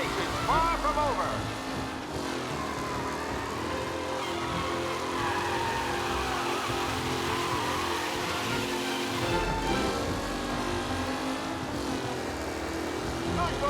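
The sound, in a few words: race car engines in video game Mafia: Definitive Edition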